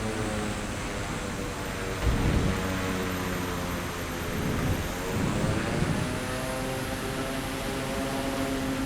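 Steady airplane engine drone from a bush plane in Microsoft Flight Simulator 2024, a continuous propeller hum with slight swells in power, heard alone at moderate loudness.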